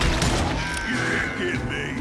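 Gunfire in the Western shooter Call of Juarez Gunslinger, a dense rolling burst of shots and impacts that stays loud throughout, with no talking.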